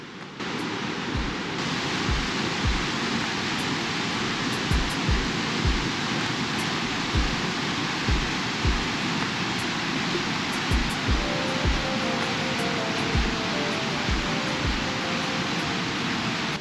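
Stainforth Force in the Yorkshire Dales pours into its plunge pool with a constant broad rushing roar. The sound is loud and close, and some low thumps recur throughout.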